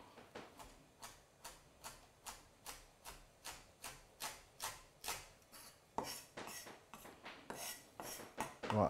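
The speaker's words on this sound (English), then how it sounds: "I'll chop up a little bit of thyme." Knife chopping fresh thyme on a board for a Caribbean ackee and saltfish dish, steady even strokes about two per second, close and crisp, speeding into quicker denser cuts toward the end, no talking.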